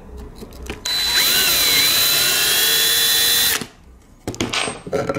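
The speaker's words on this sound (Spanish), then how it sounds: "en esa parte vamos a hacer un orificio con una broca" A power drill bores a hole with a drill bit during a home repair with glue and cotton, a loud steady whine lasting about three seconds, preceded and followed by brief handling knocks and clatter.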